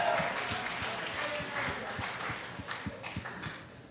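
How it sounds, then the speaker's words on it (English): An audience at a local singing contest applauds the winner with a faint, steady patter of clapping and some crowd noise, with a few scattered louder claps toward the end. "Give him a round of applause."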